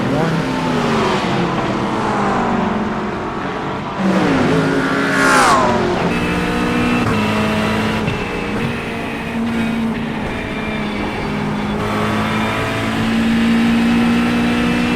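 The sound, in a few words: GT3 race car engine at Mosport, racing video game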